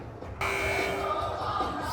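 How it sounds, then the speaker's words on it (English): A basketball scorer's table buzzer sounds for a timeout at a girls' high school game, a loud steady electronic drone starting abruptly and holding to the end over gym noise. "second buzzer after a Mohawk timeout"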